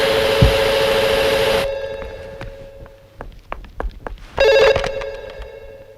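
A telephone rings loudly with a bright electronic trill, cuts off abruptly, and after a few scattered knocks and footsteps rings again briefly near the end.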